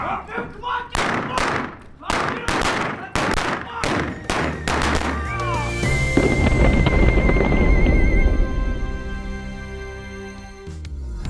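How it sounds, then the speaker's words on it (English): Guns fire during a staged Wild West shootout reenactment at the OK Corral in Arizona: a rapid volley of about a dozen sharp, close shots with shouting voices, then a ringing tone and a noisy rush as the firing stops. "that was the famous shootout at the OK Corral"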